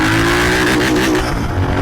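A Royal Enfield Continental GT650 motorcycle, converted from an Interceptor 650, accelerates hard in first gear. Its engine note climbs steadily and then eases off, loud and close throughout the short burst.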